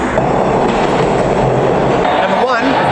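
A train rolls past loud and close, with rumbling wheels and a rattling clickety-clack on the rails that holds steady throughout.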